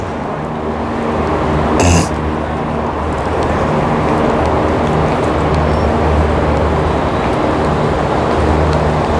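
Road traffic runs on a highway beneath a mosque as a loud, steady, broadband rumble, with one brief louder thump early on.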